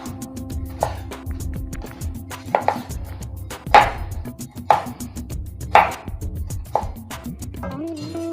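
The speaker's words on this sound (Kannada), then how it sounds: "ಸೊ ಇದೇ ರೀತಿ ಎಲ್ಲನೂ ಕಟ್ ಮಾಡ್ಕೊಳ್ಳೋಣ." A knife chops ridge gourd on a cutting board, striking in a steady series of sharp, close knocks spaced about a second apart, with faint background sounds in between.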